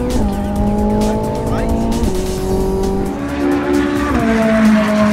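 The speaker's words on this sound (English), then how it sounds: "You go around the track sitting next to a professional race car driver telling you exactly what to do." A Ferrari race car driven hard around a track, its loud engine climbing in pitch through the gears with sharp shift breaks, and tire squeal rising over the roar.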